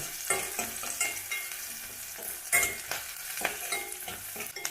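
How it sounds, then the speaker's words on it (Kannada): Onions and curry leaves fry in a pan with a soft, continuous sizzle, punctuated by scraping stirs of a spoon against the metal, close and moderately loud. "ಈರುಳ್ಳಿ ಹಾಕಿದ್ದೀನಿ, ಕರಿಬೇವು ಹಾಕ್ಕೊತಾ ಇದ್ದೀನಿ"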